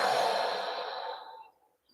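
A deep, close breath taken during a squat position in a fascial movement exercise class, lasting about a second and a half and fading out, with no talking.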